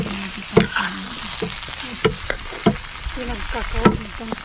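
Bitter gourd (ampalaya) goes into a hot pan and is stir-fried, a loud close sizzle broken by repeated clanks and scrapes of a utensil stirring against the pan, with no voices over it.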